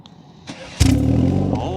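A 2023 BMW 320i with stock exhaust starts up after a quiet lead-in, a sharp crank bursting into a loud, close engine roar that settles into a steady idle.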